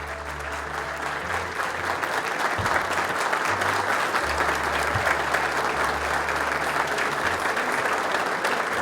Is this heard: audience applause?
yes